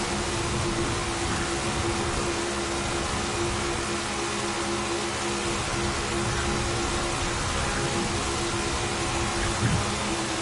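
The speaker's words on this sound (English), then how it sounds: "if you guys hear that fan in the background" An electric room fan running nearby, giving a steady, even broadband whoosh with a faint constant hum that stays level throughout with no other sounds.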